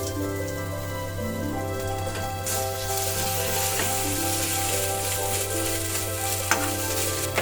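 Ginger-garlic paste frying in a pan for a Malvani crab curry, a steady close sizzle with occasional stirring scrapes and a low hum underneath.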